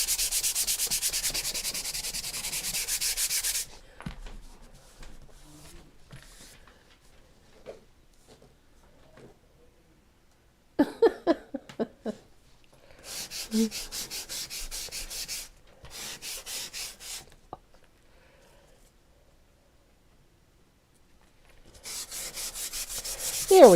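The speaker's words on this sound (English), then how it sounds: "So just giving this a light sanding, nothing too aggressive." Sandpaper rubs lightly over a stenciled painted surface in short bursts of scratchy strokes, near and fairly quiet, separated by long pauses of near silence.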